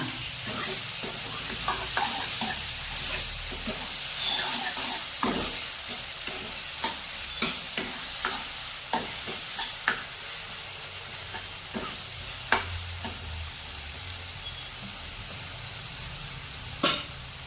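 A spoon stirs turmeric, salt and chilli powder into meal maker curry in a sizzling pan, scraping with repeated sharp clinks against the metal over a steady frying hiss.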